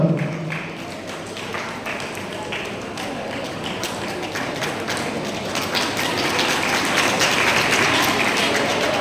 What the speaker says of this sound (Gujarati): આપણે તાળીઓથી વધારશું આ બધા એથ્લેટિકોને